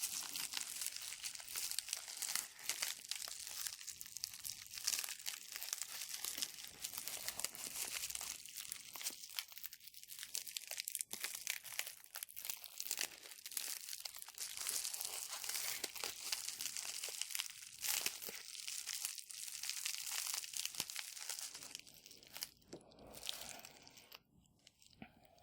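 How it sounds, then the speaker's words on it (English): Bubble wrap and sheets of paper with adhesive inside are crinkled and torn close up in a dense, continuous stretch of crackling, crunching and ripping, with no talk. "Bubble wrap, tear off sheets with adhesive inside."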